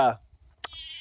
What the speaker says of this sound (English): I don't know if you can hear the goats in the background already,